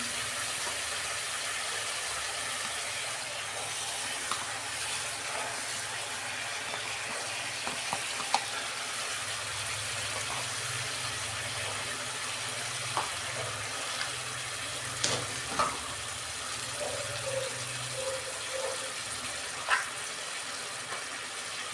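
Chicken pieces sizzle in hot oil as ginger-garlic paste is added and stirred in, a steady frying hiss with scattered clicks of a spoon against the pan for the length of the clip.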